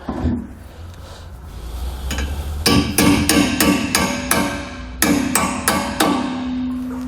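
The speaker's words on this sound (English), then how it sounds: "we can go ahead and hammer this on" A series of sharp metallic hammer blows driving a metal bushing on during a fifth-wheel hitch installation on a 2019 GMC Sierra, roughly a dozen in irregular rhythm, close and loud, with ringing decay after each strike.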